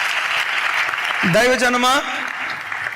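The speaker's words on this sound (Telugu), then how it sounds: "గట్టిగా చప్పట్లు కొడుతూ స్తోత్రాలు చెప్దాం." Church congregation at Emmanuel Ministries in Hyderabad clapping loudly in praise: a dense, continuous wash of applause runs throughout while a voice calls out over it briefly in the middle.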